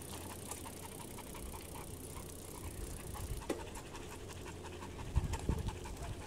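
A dog pants rapidly and rhythmically nearby, quick steady breaths throughout with a few louder snuffles toward the end.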